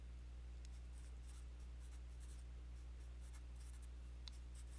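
Hand writing during a linear algebra lecture on eigenvalues and eigenbases, heard as faint, scattered scratchy strokes over a steady low room hum, with no talking.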